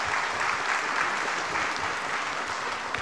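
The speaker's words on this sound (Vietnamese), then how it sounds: "Chúng ta cho một tràng pháo tay nữa" Steady applause from a sizable crowd at a Vietnamese Christmas carol concert, continuous and moderately loud throughout.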